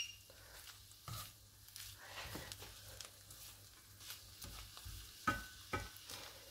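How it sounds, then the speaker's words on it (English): An egg fries in a pan, giving a soft, quiet sizzle broken by intermittent scrapes and taps of a utensil being stirred or moved around close by. "I can hear the sizzling"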